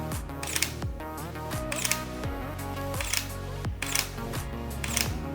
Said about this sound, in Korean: 알파 7 RM2의 셔터 소리는요, 제가 봤을 때는 왜 이렇게 만들었을까 싶을 정도로 느리게 찍히는 소리가 들려요.